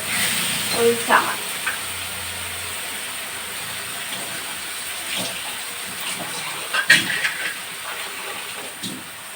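Mustard seeds sizzle and pop in hot oil, a steady hiss broken by scattered sharp crackles.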